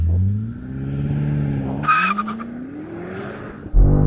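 A BMW M5 launches hard, its engine note climbing steadily while a brief, loud tire squeal cuts in partway through; the run ends in a sudden louder burst.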